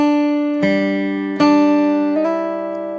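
Guitar playing measure 6 of a song's solo slowly: a few clear, ringing plucked notes, including a slide lasting a quarter note, each decaying before the next.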